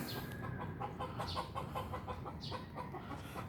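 Chickens cluck repeatedly nearby in a busy, overlapping flock, short clucks coming in quick irregular bursts.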